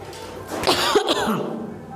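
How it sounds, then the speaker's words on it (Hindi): A person coughs a couple of times in short harsh bursts, close and moderately loud, with voice sounds mixed in around the coughs. "सॉरी, खांसी बहुत हो रहा है।"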